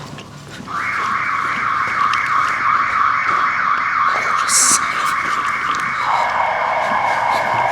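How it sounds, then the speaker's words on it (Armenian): A loud electronic alarm starts abruptly in an abandoned metro and wails continuously at a steady high pitch, shifting tone near the end, close by. "Ես ինչ սիգնալիզացիա միացավ"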